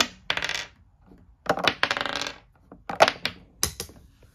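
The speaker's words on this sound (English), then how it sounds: "So I'll roll my dice, see what I get." Dice are rolled for a board game on a tabletop, making several sharp clattering bursts with short rattling tails, close by, with quiet gaps between throws and no talking.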